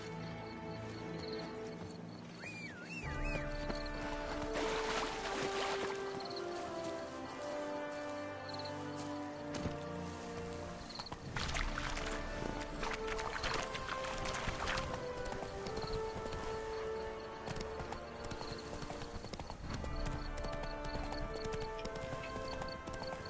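Roach the horse galloping in The Witcher 3, steady hoofbeats clip-clopping throughout under a dense layer of game music and ambience.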